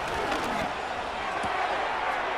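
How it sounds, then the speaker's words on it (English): Stadium crowd noise for the Buffalo Bills home crowd in Madden NFL 25 before a third down against the Atlanta Falcons: a constant, broad roar of massed voices that holds steady throughout. "The Buffalo crowd being heard before 3rd down."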